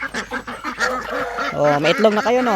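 Ducks on a Filipino farm quack in loud, repeated nasal calls at close range, several birds overlapping, while someone speaks briefly amid the calls.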